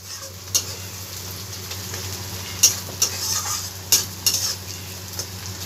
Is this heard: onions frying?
yes